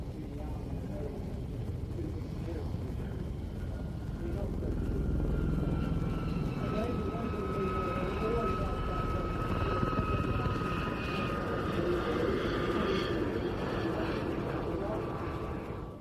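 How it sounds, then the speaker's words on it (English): In-service British military Gazelle helicopter flying a display at Cranfield, a continuous rotor and turbine drone that swells in the middle and stays steady, heard from a distance with faint voices in the background. "one of the displays performed by an in-service military Gazelle"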